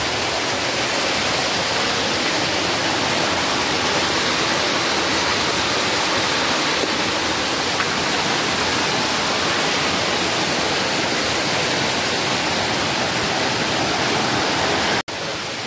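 Navlai waterfall pouring down inside a dark, dense cave-like gorge, a loud, steady roar of crashing water that runs unbroken and alone from start to finish, with a brief dropout near the very end.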